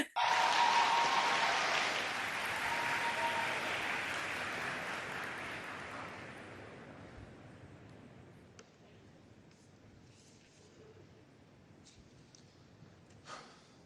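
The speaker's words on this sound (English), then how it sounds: "I do think it's so annoying when people clap though" Audience clapping at a debate, a broad burst of applause that starts loud and fades gradually over several seconds into quiet room noise with a few faint sounds after.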